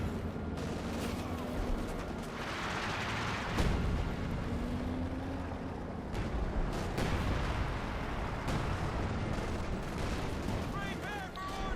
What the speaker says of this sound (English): Bazooka fire there at the Panzer IV.